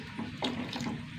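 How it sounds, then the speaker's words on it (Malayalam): Water poured into a pot of curry cooking with tamarind and ground spice paste, a soft liquid splashing and trickling close by, with short gurgling bursts over about a second. "കുറച്ചും കൂടി വെള്ളം ഒഴിച്ച് കൊടുക്കാം"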